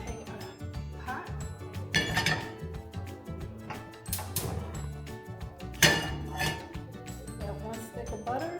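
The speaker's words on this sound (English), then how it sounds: "Okay, we're going to take a pot." Metal cooking pot clinking and clattering as it is pulled out and handled in a home kitchen, a few sharp knocks standing out over steady handling noise.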